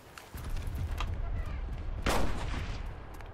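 Dense, repeated gunfire crackles through a video game battle, with a louder burst of shots near the middle over a low rumbling background.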